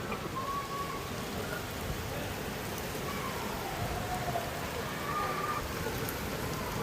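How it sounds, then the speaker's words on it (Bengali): Heavy rain from a storm in Dhaka pours down steadily as a dense, continuous hiss, with a faint low rumble beneath and no voices. "প্রচুর ঝড় উঠছে"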